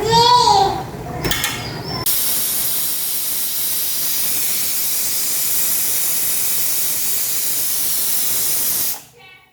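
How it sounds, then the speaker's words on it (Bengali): Loud, steady hiss of steam escaping a pressure cooker used for cooking beef, running unbroken for about seven seconds before cutting off, preceded by brief voices and kitchen clatter. "এই যে আমি এখন প্রেসার কুকারের ঢাকনাটা লাগিয়ে দিব।"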